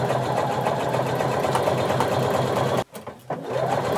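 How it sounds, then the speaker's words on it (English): A sewing machine stitching a very narrow zigzag on swimsuit fabric runs in a steady, close whirring hum, briefly stopping and restarting near the end. "using a very narrow zigzag stitch, we're going to sew until we get to our dot"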